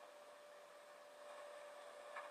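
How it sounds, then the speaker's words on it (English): Tumble dryer running as a looped relaxation app recording: a steady, even whirring hum with a faint constant tone, moderately soft and unchanging, no voices. "It's a dryer, alright."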